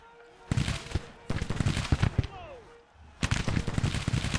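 Several loud bursts of rapid rifle and musket volleys crackle in Grand Tactician: The Civil War, a Civil War strategy game, separated by brief lulls, with a whistling streak near the middle.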